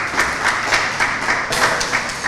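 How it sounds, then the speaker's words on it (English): A modest audience at a student leadership training session gives a short round of applause, with scattered hand claps that are loud and close. "So let's give him a round of applause."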